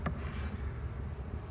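Honey bees buzz around a hive frame while the comb is being restored, a faint, steady low hum with a brief sharp tick at the start.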